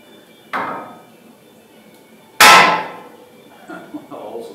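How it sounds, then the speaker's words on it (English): A hammer strikes the front suspension spindle of a Toyota Tacoma during a leveling kit install. Two sharp, loud metallic blows land a couple of seconds apart, the second one harder, followed by faint clattering. "I just take a hammer, I hit the spindle, not the tie rod in, hit the spindle where the hole goes up"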